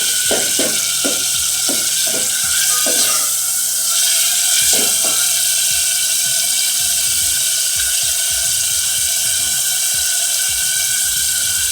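Chopped onion and tomato with salt sizzle steadily in a pan, a loud continuous hiss with a few utensil knocks and scrapes early on, close by, with no voices.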